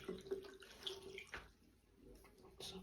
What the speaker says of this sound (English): I ran that water through.